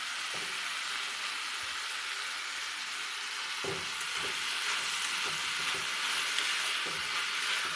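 Tomatoes with a little salt frying in a pan for a mushroom dish: a steady, bright sizzle fills the whole stretch, with occasional soft knocks of stirring breaking through at irregular intervals.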